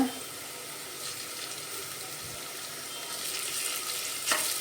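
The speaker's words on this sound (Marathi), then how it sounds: "कांदा आपला आता लालसर भाजून झालेला आहे आता त्याच्यामध्ये आपण टाकूया आलू लसूण पेस्ट" Onion with ginger garlic paste fries in a pan for a peas pulao, with a soft, steady sizzle and a faint clink near the end, fairly quiet and without speech.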